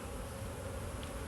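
Field bees buzz steadily as they fly out of a tub during a hive inspection, a dense continuous drone of many insects, close and unbroken, with no talking.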